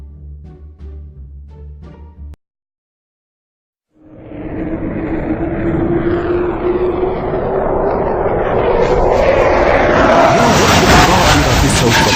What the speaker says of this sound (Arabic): الطائرة سوف تقع وسوف تموت.